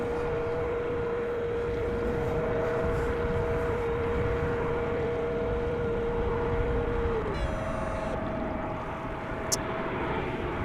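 An Air Baltic airliner takes off at Amsterdam Schiphol Airport, its engines a loud, steady roar with a sustained whine that holds for most of the stretch, then shifts in pitch near the end.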